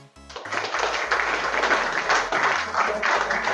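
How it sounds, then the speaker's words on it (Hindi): An audience at a coaching centre event breaks into sustained applause, a dense wash of many hands clapping loudly and evenly throughout, with a voice briefly audible at the very start. "इसके लिए तालियां बजाओ"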